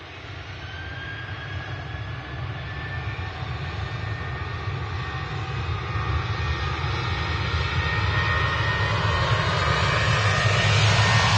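A Jet2 airliner's engines roar on its takeoff run at Manchester Airport, a broad steady rumble with whining tones that swells gradually louder throughout.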